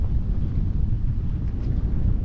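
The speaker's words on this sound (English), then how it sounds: "Because of the wind?" Gusty wind buffeting the microphone on a fishing pier, a dense low roar that stays loud and continuous through the short stretch.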